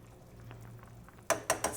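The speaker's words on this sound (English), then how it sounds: "So my broccoli is really boiling in the pan now." Broccoli boils in a pan with a low steady bubbling hum, then three sharp clatters of a utensil or pot close by near the end.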